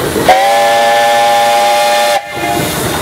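A steam engine whistle at the Darke County steam threshers show, Ohio, blows one long, steady, loud blast with a hissing edge, lasting about two seconds before cutting off.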